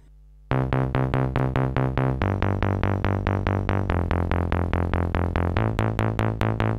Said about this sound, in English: I think I'm gonna use the synth bass.